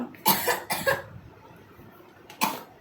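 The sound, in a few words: coughing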